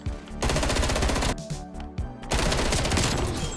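FFAR rifle fire in a Call of Duty Hardpoint match comes in loud, rapid automatic bursts with brief gaps between them. The shots are close and sharp, and the rattling volleys sound near-continuous.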